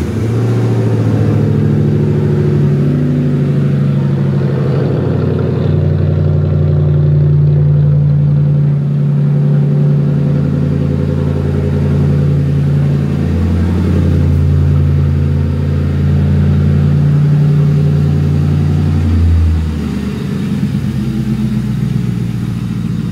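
A Ford Crown Victoria engine starting and running, a loud, close, steady mid-pitched idle rumble that holds throughout with slight rises and falls in tone, no talking.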